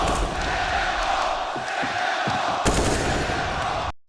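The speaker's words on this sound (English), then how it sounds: "listen to this crowd" Crowd noise roars continuously at a live CSGO match, with sharp game gunfire cracks and bursts cutting through, and a caster talking over it all.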